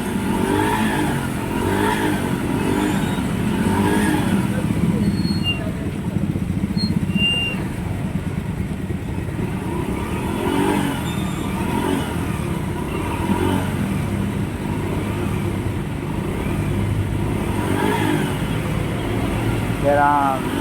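A motorcycle engine that keeps dying is revved repeatedly in bursts, loud and close, with people talking over the rising and falling engine noise.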